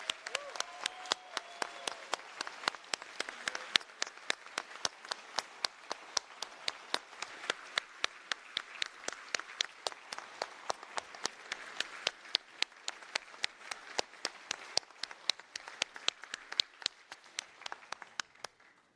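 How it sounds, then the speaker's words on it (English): Sparse, distinct clapping comes from an audience at a university graduation ceremony for the Master in Entrepreneurship class. The claps carry a little echo and hold an uneven, steady rhythm for the whole span at moderate volume. "So this is now the big applause for the Master in Entrepreneurship."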